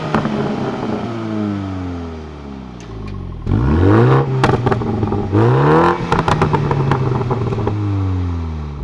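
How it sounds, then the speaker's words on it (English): A 2020 Mini Cooper Countryman JCW engine downshifts and accelerates, revving up in repeated rising sweeps that climb, drop at each shift and climb again, loud and close, with crackles and pops from the exhaust. "So now I'm going to downshift and floor it. And how does that sound?"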